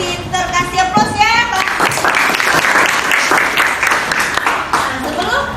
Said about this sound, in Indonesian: Kasih aplaus ya